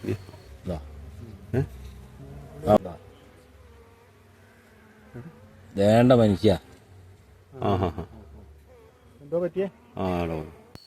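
Honeybees drone steadily around a bee-farm hive close by, a constant buzzing hum, while a person speaks in short bursts over it.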